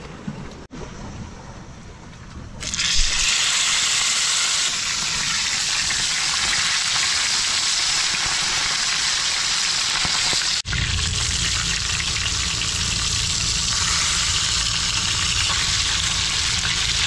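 Fish frying in a pan crackles as a loud, dense, continuous sizzle that starts abruptly and runs on close-up, with a brief break midway and a deeper rumble afterward.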